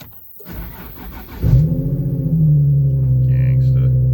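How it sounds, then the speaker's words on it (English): A car engine cold starts: a brief cranking whir, then it catches with a loud burst and settles into a steady, slightly elevated idle rumble, close by. "Little, cold start action."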